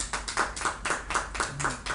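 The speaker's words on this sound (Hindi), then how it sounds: "बजाओ ताली।" An audience at a Hindi poetry gathering clapping in unison after a poem, a brisk, even beat of roughly four claps per second, fairly close and uniform without speech.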